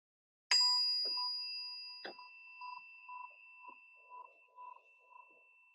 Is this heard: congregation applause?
no